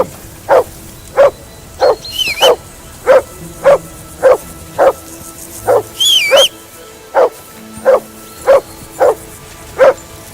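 A dog in Kingdom Come: Deliverance II barks nearby in a loud, regular series of about fourteen barks, with a couple of brief high whistling tones cutting in between them.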